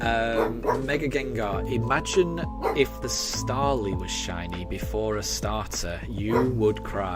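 A dog barks and yips indoors in a house, several short barks heard under a person talking continuously over them.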